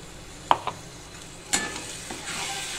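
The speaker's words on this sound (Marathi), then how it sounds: "आता आपण टोमॅटोची प्युरी टाकतोय।" Tomato puree hits a pan of frying masala for matar paneer, giving a couple of sharp clinks and a burst of sizzle, then soft stirring and quiet frying, with no talk.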